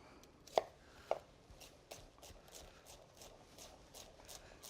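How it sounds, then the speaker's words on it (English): A kitchen knife slicing and dicing shallots on a cutting board, with a couple of sharp knocks followed by a run of lighter, fairly even taps, close up and distinct. "we're just going to sort of slice and dice."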